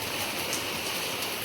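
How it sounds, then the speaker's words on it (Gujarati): Steady rain pours down in a village, a continuous even hiss of drops on surfaces with no voices, moderately loud throughout. "બહાર બહુ મસ્ત મજાનો વરસાદ ચાલુ છે."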